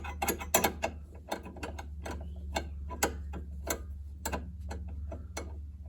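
A wrench tightens carburetor fittings on a 1966 Corvair 140 engine, producing quiet, irregular metallic clicks and ticks spaced through the clip with no voices.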